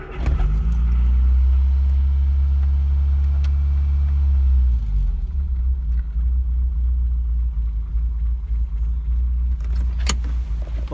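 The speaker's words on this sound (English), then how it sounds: "I'm just going to start this car up and just show you the fantastic noise it makes" A 1983 MG Metro 1300 engine turns over with a little choke and settles into a low, steady idle, with a jangle of keys and a brief rev near the end.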